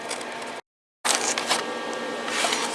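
Aerosol can of 2-in-1 paint and primer spraying onto a car part, loud and close, as a steady hiss in two bursts separated by a short silent pause.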